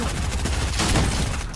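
Rapid explosive launcher fire from a quad launcher in Fortnite, a dense run of booming blasts and bursts that stays loud for the whole short stretch.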